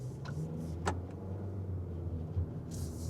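A 2026 Kia K4 Hatchback GT Line Turbo pulls away, heard from inside the cabin as a low, steady engine hum with a few faint clicks and ticks over quiet road rumble.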